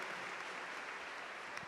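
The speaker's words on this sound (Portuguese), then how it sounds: "vamos aplaudi-los, sejam muito bem-vindos" A congregation applauding first-time visitors at a Catholic Mass, steady faint clapping from a large crowd heard at a distance, brief and even throughout.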